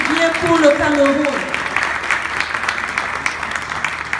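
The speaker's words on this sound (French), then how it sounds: "un tonnerre d'acclamation, un tonnerre d'applaudissements pour cet homme" Applause from a crowd at a ceremony in Cameroon, a thunder of clapping that begins under a voice still speaking, then carries on alone as a dense, steady patter of many hands.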